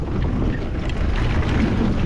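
A boat motor on the water rumbles low and steady close by at a fishing spot in Arnhem Land, heavily mixed with wind buffeting the microphone, with no voices.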